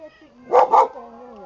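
A dog gives two quick, close barks in succession, with a faint voice and background hum around it.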